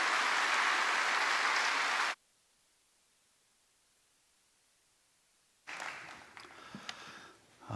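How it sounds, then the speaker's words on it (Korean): Congregation in a Korean church during Sunday worship gives a brief burst of hissing applause that cuts off abruptly, followed by silence and then faint room noise. "우리 박수로 목사님을 모시겠습니다"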